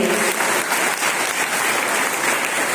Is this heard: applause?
yes